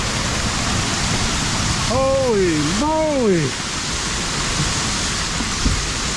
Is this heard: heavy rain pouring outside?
yes